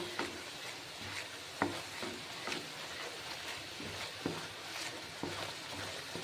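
Banana flower cooked with yogurt is sautéed in a pan over medium-low heat, giving a soft steady sizzle with gentle, irregular stirring clicks and scrapes, fairly quiet and close, with no talking.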